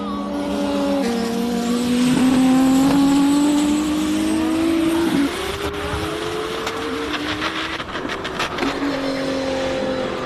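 A race car roars past on a hillclimb course, its engine tone climbing and falling as it draws near and goes by. A rough scraping from the front splitter grinding on the tarmac runs underneath the engine.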